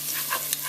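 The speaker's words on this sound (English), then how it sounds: "keep on stirring and frying this up" Ginger frying in a pan for a yu choy and oyster sauce dish, a steady soft sizzle with faint scraping of a stirring utensil, close and brief, no talking.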